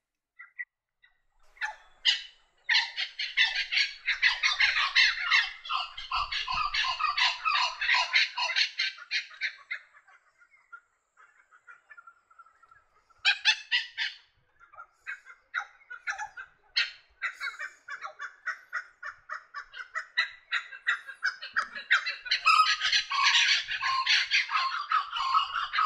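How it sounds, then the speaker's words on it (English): A laughing kookaburra in Cairns gives its loud cackling call in long rolling bursts, pausing midway and then building again into a raucous chorus, heard clearly against quiet surroundings. "you can hear the laughing kookaburra"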